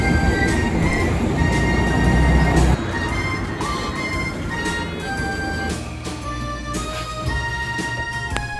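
A Shizuoka Railway train running between Yunoki and Naganuma stations rumbles along steadily with a broad, continuous roar, brief high squeals and faint tonal hums riding on top, heard from inside or close by.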